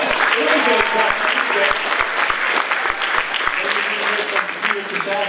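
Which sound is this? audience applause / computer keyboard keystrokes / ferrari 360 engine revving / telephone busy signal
audience applause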